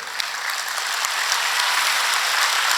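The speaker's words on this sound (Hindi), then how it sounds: "आपके पूज्य श्री गुरु महाराज जी को तालियां बड़ी पसंद थी, उनके नाम की तालियां बजाओ।" Dense, continuous applause from a crowd at a religious saints' gathering, steady and sustained throughout with no speech over it.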